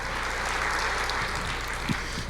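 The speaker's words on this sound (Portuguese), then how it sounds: "aplauda ao Senhor" A church congregation claps together in sustained, dense applause at a moderate level, a steady patter of many hands with no break.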